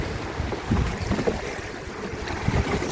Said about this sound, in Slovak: Loď sa nakláňa na jednu, na druhú stranu. A takto prechádzajú týmito menšími pereami